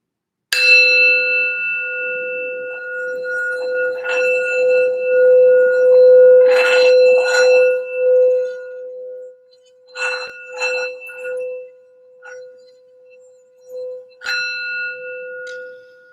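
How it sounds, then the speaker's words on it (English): A singing bowl or bell rings out and sustains a pure hum, struck again several times with bright metallic hits and soft taps while the tone lingers. "we're going to do a quick sound bell just for some healing and grounding for the reading."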